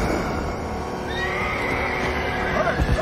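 Horses neigh in a battle scene from The Lord of the Rings: The Return of the King, a loud whinny rising over dense rumbling film sound effects and commotion.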